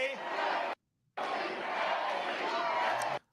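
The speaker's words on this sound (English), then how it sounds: "I have no idea what this crowd is chanting anytime they try." A large political rally crowd chants and roars in two loud, sustained bursts separated by a brief silent cut, the mass of voices blending into one dense wall of sound.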